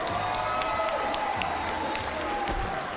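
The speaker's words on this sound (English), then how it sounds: "how about a nice round of applause for both fighters" Steady crowd applause at an MMA fight filling the space, a dense wash of clapping with some cheering and a faint voice underneath.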